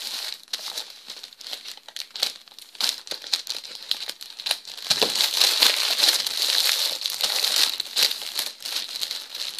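Shiny gift wrapping paper crinkles and rustles up close as a package is opened, with steady handling that grows denser and louder partway through, no talk over it.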